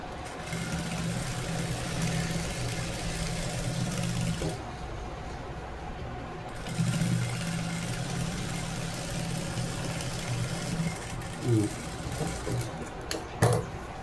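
Sewing machine stitching the edge of a mangala-sthanam style blouse, a steady mechanical whir running in long bursts with a brief pause partway through and a few clicks near the end.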